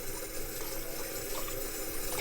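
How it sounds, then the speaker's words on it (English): Waterproof sub-zero winter gloves flexed and splashed in a basin of water, giving a steady close-up sloshing and running-water wash with no voices. "So I'm flexing them in the water"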